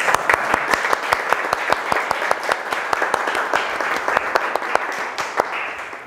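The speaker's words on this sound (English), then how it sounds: "I also think a round of applause is in order for Tuja" Audience applause at the close of a mathematics lecture on partition statistics, a small room of listeners clapping steadily with distinct sharp individual claps throughout, fairly loud and close, with no talking over it.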